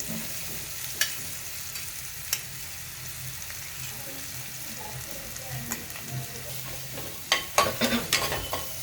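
Ground spice masala paste sizzling as it is sautéed in a pan with turmeric, a steady fry hiss broken by scattered stirring scrapes and clinks that grow busier toward the end.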